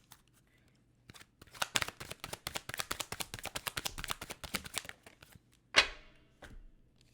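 Tarot and oracle cards riffle in a steady rapid flutter for several seconds, then one sharp snap as a single card is drawn from the deck, close and clear with no talking.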